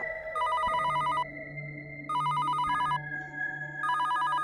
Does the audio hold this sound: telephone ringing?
yes